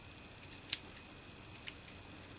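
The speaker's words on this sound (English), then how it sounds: "what I'll do is I'll cut this at the end" Scissors snip the end of a small paper craft banner: a few sharp, close cuts, the clearest one early and another about a second later, with faint snips between in a quiet room.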